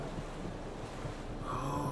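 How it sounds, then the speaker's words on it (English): In The Witcher 3 video game, a character falls into water: a continuous rushing wash of waves and splashing water, steady and close, swelling slightly toward the end. "Oh, I accidentally fell down into the water."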